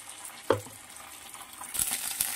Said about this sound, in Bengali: রসুন আদাটা ভাজা হয়ে এসছে